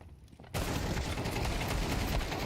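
Counter-Strike gunfire during an ESL Challenger League match, Aurora Gaming versus PARIVISION, bursting in after a brief quiet and continuing as a dense, steady clatter of shots with no clear pauses.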